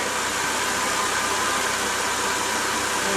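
A car engine runs steadily nearby, a continuous broadband rushing hum with no change in pace and no voices over it.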